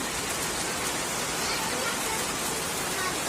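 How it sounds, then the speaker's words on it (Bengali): Steady outdoor rainfall, a dense even hiss of drops pattering on surfaces all around, constant in level throughout with no gaps or voices. "চারিদিকে কি সুন্দর বৃষ্টি হচ্ছে বন্ধুরা"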